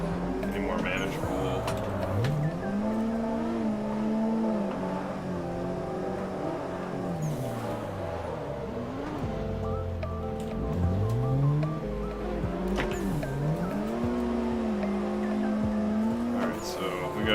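A turbocharged race car drifting in the Assetto Corsa driving game, its engine note rising and falling in long sweeps with intermittent tire squeal, while someone talks over it.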